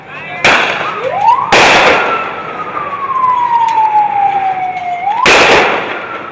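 Loud sharp blasts during the Westgate Mall siege in Kenya, three sudden explosive bursts spaced apart, with a rising and falling siren-like tone sweeping between them over a steady outdoor rumble.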